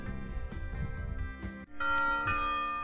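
The church bells of Bruniquel ring out in a quick run of several clear strikes, then settle into a sustained, resonant tolling that hangs in the air, fairly distant and alone.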